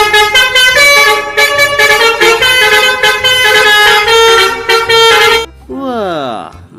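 A toy telolet bus horn blares a loud, continuous melodic multi-tone honk for about five seconds, then stops and is followed by a short sweeping tone.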